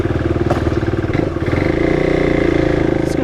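An SSR SR70 fully automatic pit bike ridden through the Arizona desert, a close, buzzing small engine with a rapid pulsing idle that rises into a steadier, louder drone as it revs.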